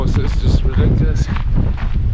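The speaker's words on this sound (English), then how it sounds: "the wind is just ridiculous today. It's just gusting, hurricane force." Strong, hurricane-force wind gusts roar across a hiking trail, buffeting the microphone in a loud, continuous rush beneath a person talking.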